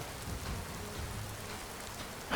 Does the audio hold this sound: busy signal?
no